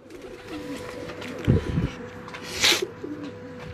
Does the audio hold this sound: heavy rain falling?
no